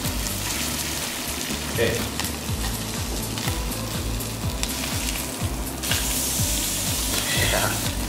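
Salmon cake sizzling in a lightly smoking pan, a steady crackling fry with a rapid ticking spatter throughout and brief louder hisses, while a person speaks a short word.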